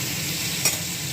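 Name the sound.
pointed gourd (potol) frying in oil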